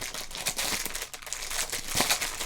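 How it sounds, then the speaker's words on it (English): Crinkling and ripping of a 1988 Topps rack pack's plastic wrapper, close and crisp, with continuous crackly rustles and a sharper tearing burst near the end, heard alone. "We're going to crinkle and rip this"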